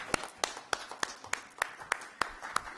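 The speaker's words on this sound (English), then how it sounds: "A big round of applause, everyone" At a felicitation ceremony during a women's conference, hand claps sound in an even, spaced rhythm, about eight sharp distinct claps, fairly close and without voices.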